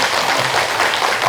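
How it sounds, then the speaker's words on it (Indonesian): Loud, dense applause from a studio audience rolls on steadily without pause, a thick wash of many hands clapping at once with no voices rising above it. "Tepuk tangan untuk Mama Dede."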